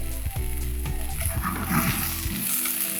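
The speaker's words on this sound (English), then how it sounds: "And this is just a quick saute." Pak choy sautéing with ginger and garlic in a hot pan, a dense continuous sizzle with stirring scrapes and clatter, close and fairly loud, no voices.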